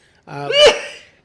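A single sharp human sneeze, close and loud, rising from a short intake to an explosive burst and trailing off within about a second.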